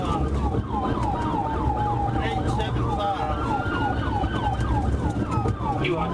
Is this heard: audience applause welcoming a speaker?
no